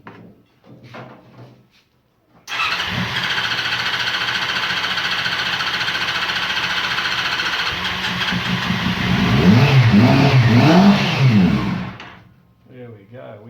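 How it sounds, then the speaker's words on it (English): A Honda CB400 NC23E motorcycle with blocked carburettors fires up and runs at a steady, loud idle, then is revved in a rising, wavering burst before cutting out abruptly; brief talk comes before and after. "So I know the engine runs"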